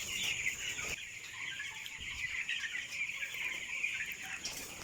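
Broiler chickens about eighteen days old clucking in a farm coop, a dense continuous chatter of many birds with a high steady hum behind it, no talking.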